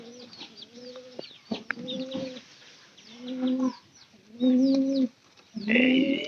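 Pigeons call in a loft, with several close, loud bursts of cooing and throaty calls coming in uneven runs and short pauses between them.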